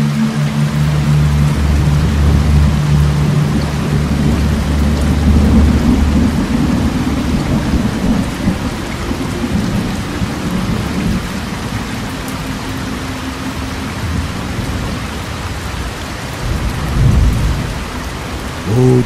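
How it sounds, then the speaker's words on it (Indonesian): Heavy rain pours down steadily in a thunderstorm, with low rolling thunder rumbling beneath the dense, continuous hiss of the downpour throughout. "Hujan masih turun dengan derasnya."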